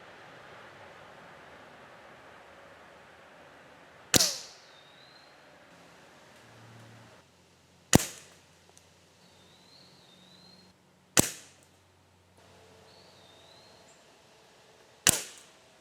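Four sharp, loud rifle shots spaced a few seconds apart, each cracking against Lego Ninjago minifigure targets grouped at one outdoor spot, with brief echoing decay and quiet ambience between.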